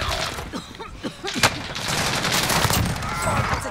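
Gunfire in a battle-royale style video game, rapid bursts of shots cracking in quick succession, some near and some farther off, with a voice speaking briefly beneath.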